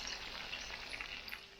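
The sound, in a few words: barracuda fish frying in a frying pan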